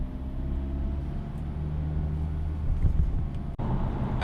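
A car engine cruising in 7th gear at 100 km/h gives a steady, loud low drone with broadband road rumble throughout, briefly cut just before the end.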